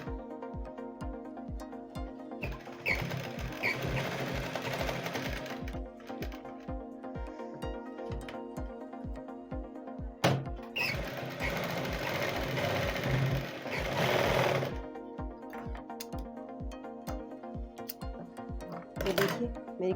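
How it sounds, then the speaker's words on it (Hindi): A sewing machine runs in long steady bursts with brief pauses while stitching the shoulder seams of a child's frock made from waste cloth, the motor loud and close throughout. "तो इसको चलिए मैं यहाँ से कंधों पे से मैं सिलाई लगा लेती हूँ"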